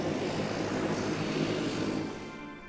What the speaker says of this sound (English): The plane touched down.